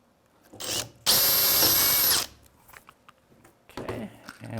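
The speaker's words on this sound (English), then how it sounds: "Let's drill the next hole." A power drill bores a hole during assembly of a top frame, one loud high whine lasting about a second, set between quieter handling clatter and brief talk.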